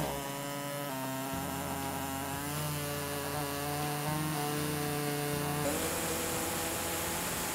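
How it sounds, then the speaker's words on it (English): An air saw buzzes steadily through the plastic rear bumper of a 2015 Infiniti QX60, a continuous whining drone with slight shifts in pitch as it cuts, heard close and alone. "we're going to be using an air saw."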